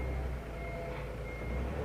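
A Toyota Tonero counterbalance forklift backing up with a load on its forks, its reversing alarm beeping steadily and clearly over a constant engine hum, with no talking.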